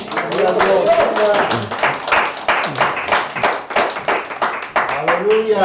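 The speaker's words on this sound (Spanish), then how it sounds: "Alguien dele palmas al Señor, amén." A church congregation claps hands in a steady rhythmic beat, loud and close, while voices call out over the clapping throughout.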